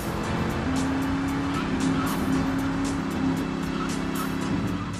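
Car engine from a vehicle driven in Grand Theft Auto III: a steady, loud in-game motor hum with a sustained whining tone and faint tire noise throughout, no voices.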